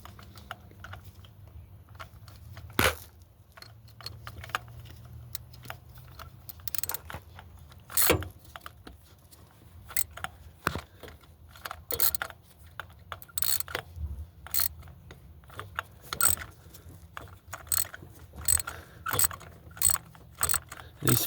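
Ratchet wrench cranking a spark plug out of a 2008 Honda Odyssey engine, close-up with irregular bursts of rapid clicking and pauses between strokes, no talking.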